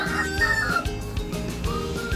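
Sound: labuyo jungle fowl rooster

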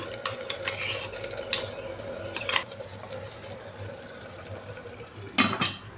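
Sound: mashing cooked pumpkin for erissery in a pot

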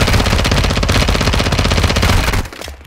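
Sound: machine gun fire in the video game Call of Duty Warzone 2.0

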